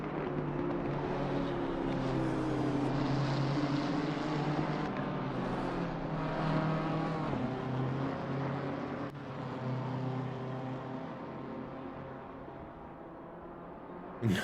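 Race cars lapping Monza in Assetto Corsa Competizione, a BMW among them in a close battle, roar steadily throughout with a dense, continuous engine drone that dips slightly near the end.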